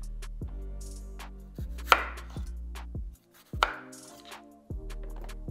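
Tomatoes chopped with a knife on a cutting board for salsa, a handful of sharp, distinct chops at uneven intervals with quiet gaps between them and no talking.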